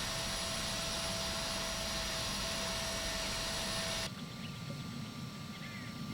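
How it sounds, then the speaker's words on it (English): Embraer Phenom 300 jet engine spinning up in a P3D flight simulator, a steady broadband turbine roar with a high whine that shifts and drops slightly partway through, continuous and close. "Starting engine number 1."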